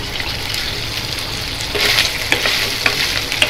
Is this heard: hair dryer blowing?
no